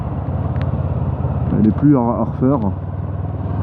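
Honda CBF 500 motorcycle engine humming at a steady low rumble while leaning through gentle turns, with a rider talking over the drone.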